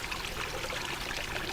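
A solar-powered waterfall and fountain in a garden pond give off a steady, even rush of splashing water that runs unbroken and close at hand, with no voices.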